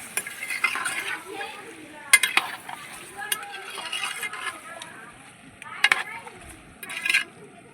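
Raw chicken is mixed with turmeric by hand in a metal vessel, giving a series of wet, squelching stirs punctuated by sharp clinks of metal at irregular moments, heard close up.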